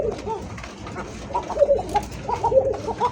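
Kokka breed pigeons coo in a low, repeated murmur through a busy loft or market setting, with several soft calls rising over continuous background bird noise.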